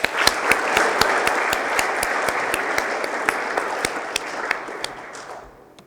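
Steady audience applause fills a school awards assembly, dense clapping with sharper individual claps standing out, sustained loudly for several seconds before tapering off at the end.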